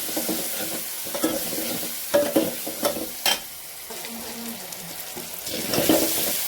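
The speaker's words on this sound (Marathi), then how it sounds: "बघू शकता हळद टाकल्यानंतर पण छान ते परतून घ्यायची आहे" Turmeric being stirred into hot oil for a toor dal tempering gives a steady close sizzle, with repeated spoon scrapes and clinks against the pan.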